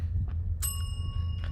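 A single bright metallic bell strike rings out once in a horror video game, ringing on briefly over a low steady rumbling ambience.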